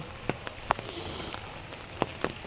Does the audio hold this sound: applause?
no